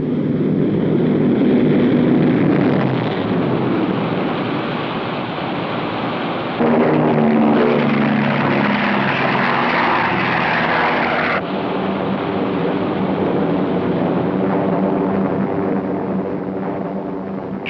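Propeller engines of a WWII bomber in flight on a daylight raid over France drone continuously and loudly, a dense roaring hum with a throbbing tone that shifts slightly in pitch partway through.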